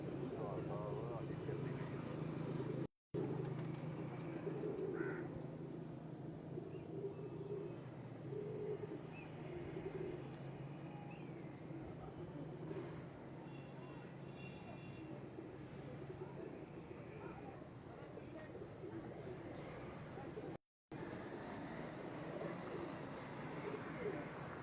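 A pigeon lands and coos faintly amid a steady outdoor murmur with distant aircraft drone and voices talking throughout, the soft cooing barely rising above the background.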